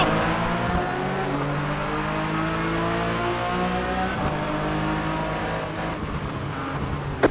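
Porsche race cars in iRacing roar off the line at a race start in Montreal, several engines revving hard and rising in pitch together, a dense continuous wall of motor noise throughout.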